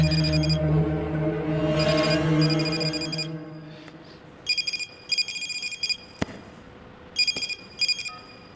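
A telephone rings in a Hindi thriller film scene: a low musical drone fades out, then repeated bright electronic ring bursts come in short pairs, loud and close, with no one speaking.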